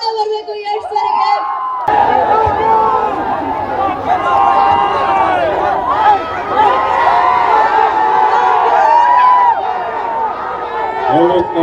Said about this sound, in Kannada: ಅದಕ್ಕೆ ನಮ್ಮೆಲ್ಲರ ಪರವಾಗಿ ಒಂದು ದೊಡ್ಡ ಚಪ್ಪಾಳೆ ಬರಬೇಕು ಯಶ್ ಸರ್ಗೆ